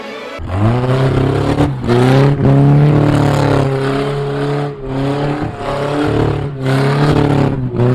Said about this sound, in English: we were able to do some donuts in the dirt.